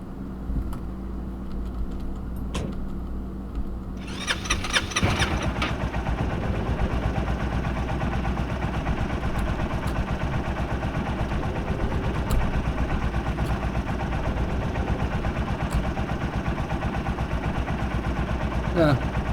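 Motorcycle in the game SCUM starts up and settles into a steady idle, a continuous engine hum running loud and close for the rest of the stretch, with a person talking over it.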